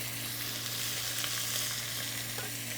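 Onion sautéing in a pan for a zucchini and edamame stew, giving a steady, even sizzle with a low hum beneath and faint scrapes of stirring, no one talking.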